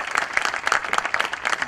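Audience applause at a book launch for young authors, a dense, steady wash of many hands clapping together across the whole moment, loud and close with no break.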